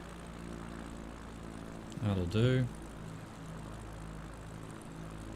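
A propeller plane flies a bush trip in a flight simulator, its steady engine drone droning evenly throughout while someone speaks briefly midway.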